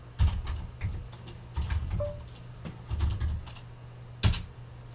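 Command typed on a computer keyboard in Linux Ubuntu, a steady scatter of soft key clicks and taps close to the mic, with one louder keystroke near the end and no talking.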